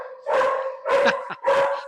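A dog barks in the background in three loud, close bursts spread across two seconds, with no one talking over them.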